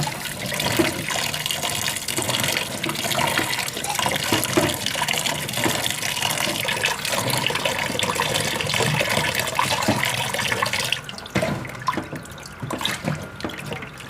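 Water runs steadily from a tap over cut potatoes being rinsed for homemade French fries, a close, continuous splashing wash that thins out and turns softer near the end; no talking.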